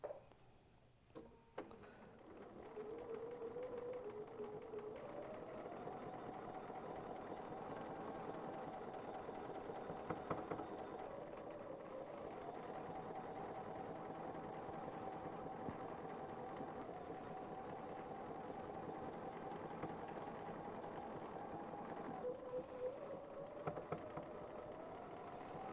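A sewing machine stitches a quilt border in one long continuous run, its steady mechanical whir and rapid needle ticking holding even pitch with small shifts in speed, a few handling knocks at the start.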